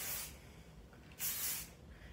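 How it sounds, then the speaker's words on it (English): Two short hissing bursts of aerosol hairspray, one at the start and a longer one near the end, close up. "Then come through with my finishing spray."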